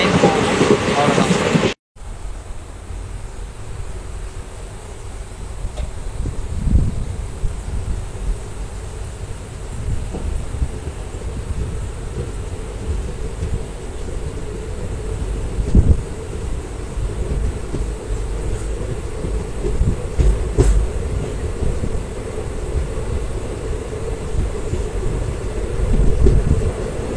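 Inside the Madurai–Ramanathapuram Express, a steady low rumble of the running train carries on throughout, with occasional thumps and jolts from the wheels and coaches.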